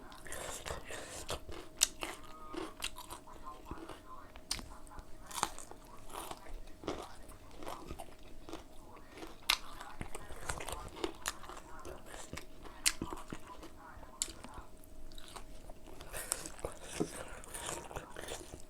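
Crunchy raw cabbage and sweet pepper are chewed with som tam, close and repeated bites and crunches throughout, with soft talk in between.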